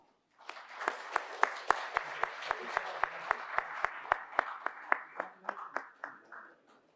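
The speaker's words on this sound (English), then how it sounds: "Let's give them a round of applause." Applause from an audience at a formal luncheon address in Cambodia during a memorandum of understanding exchange. A steady round of clapping with a few sharp, prominent claps keeps a regular beat, then fades after about six seconds.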